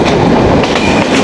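Rail clatter and rumble of a Bangladeshi passenger express train running on its line, heard from inside a shovan chair coach with 3x2 seating: a steady, loud, continuous rolling noise with faint rhythmic clicks from the wheels.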